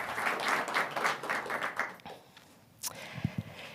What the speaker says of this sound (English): let's give them a huge, huge round of applause.